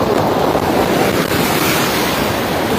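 Strong, swollen river current in Rajouri after rising water, a loud continuous broadband rush with gusty wind buffeting the microphone, no voices.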